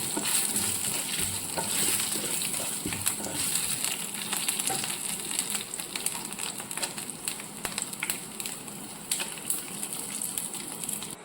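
Steady crackling sizzle of mustard seeds frying in hot oil, with sharp pops scattered throughout, close and continuous with no voices.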